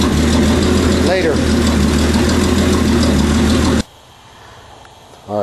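A turbocharged Datsun 280Z fitted with a GT35R turbo idles loudly and steadily up close, then cuts off abruptly near the end, leaving quiet; a voice speaks briefly.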